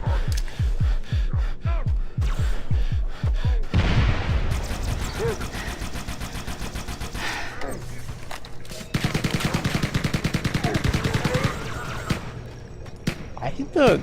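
SMG fire in the video game Halo, rapid automatic bursts of gunshots mixed with other game weapon sounds and effects, loud and close, with a player talking over parts of it.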